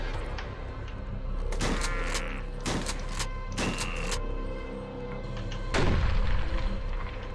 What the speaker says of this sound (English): Those are some of the most satisfying, like, grenades I've used in a long time in a video game